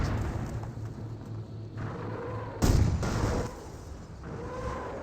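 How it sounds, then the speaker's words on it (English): Artillery barrage from a Nebelwerfer rocket launcher in the World War II strategy game Company of Heroes, heard as a rumbling distant volley with a sharper, louder blast burst midway amid steady battlefield ambience. "Looks like Nebworf firing a barrage somewhere."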